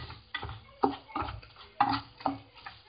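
Chicken and rice frying briefly in oil while being stirred, a series of close, rhythmic scraping and clattering strokes about every half second over a soft sizzle.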